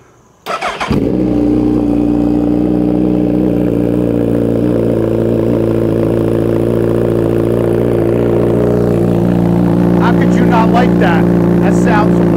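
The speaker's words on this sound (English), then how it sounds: "let me give you guys a startup on the Hayabusa" A Suzuki Hayabusa motorcycle fitted with a Brocks full alien head exhaust cranks briefly and fires up, then settles into a loud, steady, deep idle that runs for about ten seconds, with a few faint sounds near the end.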